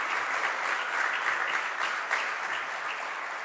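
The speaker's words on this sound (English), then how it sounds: "let's give him a round of applause" Steady applause from an audience at the Caribbean Climate and Energy Conference 2023, a dense, even patter of many hands heard from a moderate distance.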